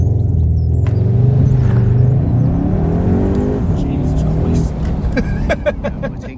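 A 2021 Skoda Octavia RS launches from a standstill with a loud, close engine rumble that swells and climbs, then eases off as the car pulls away, a voice speaking over the start.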